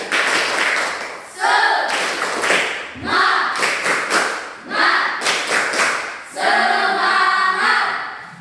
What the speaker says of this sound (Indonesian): Tepuk semangat untuk si Darnis